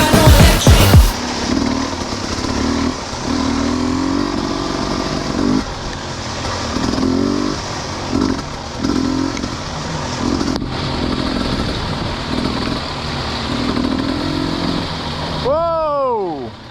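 A small kids' motorbike engine revs on a muddy trail in pouring rain, buzzing and rising and falling in repeated throttle pulses, with people talking over it.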